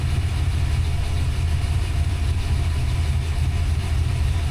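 A freshly built Ford 363 V8 in a Fox Body Notch with Holley ignition idles steadily, a deep, even low rumble that holds throughout with no talking over it.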